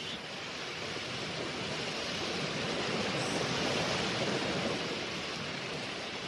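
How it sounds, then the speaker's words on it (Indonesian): Continuous broadband rush of a waterfall pouring into a large pool at night, steady and even throughout, with no voices. "Kesunyian malam di sekitar air terjun hanyalah diisi oleh curahan air yang jatuh memecah di kubangan besar"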